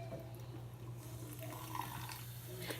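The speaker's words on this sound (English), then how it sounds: "I'm gonna rinse my hands." Tap water running at a sink while hands are rinsed, a faint steady splash over a low hum.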